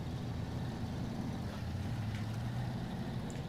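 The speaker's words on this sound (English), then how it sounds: "Oh, the engine sound is phenomenally good." An International Fleetstar twin-steer truck in the SnowRunner video game rumbles with a steady, deep engine drone, continuous and loud without pause for several seconds.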